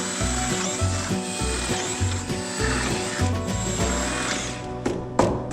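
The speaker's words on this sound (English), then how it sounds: "Why are you drilling these holes out?" A drill works through steel roll cage tubing, giving a loud, grinding, rhythmic rasp that repeats in roughly one-second strokes, with a few sharp clicks near the end.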